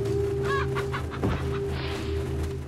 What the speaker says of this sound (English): This is just a fucking chicken.